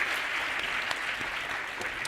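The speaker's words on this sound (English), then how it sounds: "let's give our people here a round of applause" Audience applause at a keynote address: dense, steady clapping from a large crowd, loud and sustained without a break.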